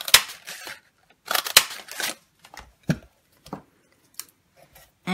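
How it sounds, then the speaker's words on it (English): Scissors cutting paper leaves out of a scrap of olive cardstock, a series of short crisp snips in irregular clusters with quiet pauses between, close and clear, no talking. "I'm just going to cut out 4 leaves"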